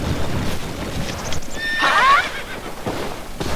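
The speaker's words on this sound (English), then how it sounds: "And our horse is coming." A horse in a Zelda video game gives a clear neigh while its hooves clip-clop closer, the whinny rising in the middle over steady footfalls and game ambience.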